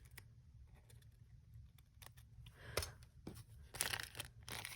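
Scissors snip through paper and a plastic bag in a few sharp, close cuts with light crinkling between them, quiet and irregular, no talking.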